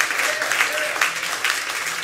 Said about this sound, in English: Let's give Daryl's house one more round of applause for having us here.